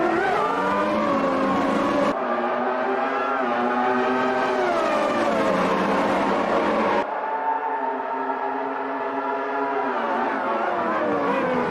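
A pack of Formula One cars launches off the grid at a race start in the AMS racing game, engines screaming loudly and rising in pitch through the gears, many overlapping near and close.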